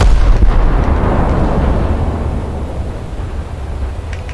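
Heavy shell impacts from an IJN Suzuya light cruiser striking an enemy ship in a naval battle in War Thunder, a loud rumbling boom at the start that rolls into a long, decaying low roar with no voices.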